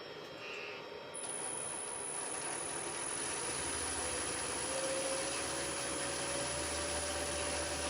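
A wood lathe runs at about 900 rpm while hollowing a cherry root ball form, giving a steady, loud motor drone with a broad whirring rush and a faint tone that climbs slightly. It continues unbroken with no talking.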